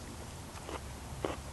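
Crunchy bites into grilled, smoky, buttery cabbage: two brief, close crunches about half a second apart, set against quiet room background.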